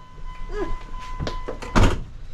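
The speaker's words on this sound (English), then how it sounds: "Sit in there and shut the door." A car door swings shut from inside the driver's seat during brake bleeding work, a couple of soft knocks leading into a single solid thunk, with faint shuffling around it.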